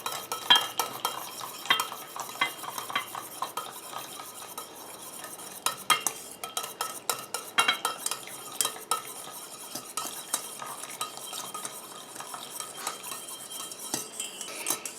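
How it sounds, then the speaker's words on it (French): Olive foot cream emulsion being stirred continuously in a bowl as the water phase is added little by little, a soft, steady scraping and clinking of utensil against bowl, quiet and close. "Et je continue à mélanger comme ça jusqu'à ce que mon émulsion épaississe et refroidisse."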